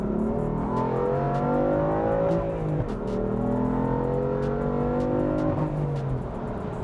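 A tuned 2015 BMW M3 with MHD tuning accelerates hard in Sport mode, its engine note rising through the gears. Two sharp drops mark quick upshifts, and the loud, close, continuous roar lasts nearly seven seconds with no talking.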